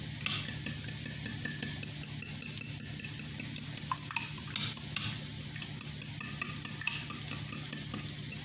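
Onions being stirred in a pan, faint sizzling under a low hum with scattered light scrapes and clinks of a utensil against the pan, no speech.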